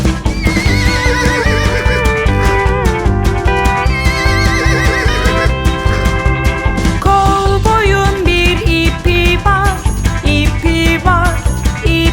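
Horse neighs and whinnies ring out repeatedly inside a bouncy Turkish children's cowboy song, riding over the full, loud musical backing with hints of clip-clop rhythm.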